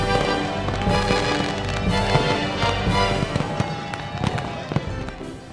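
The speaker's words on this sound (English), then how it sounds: "They got fireworks and everything." Fireworks burst at a knights' initiation celebration in the Suikoden 4 video game, with a string of crackling pops and sharp bangs layered over music, growing busier and louder toward the end.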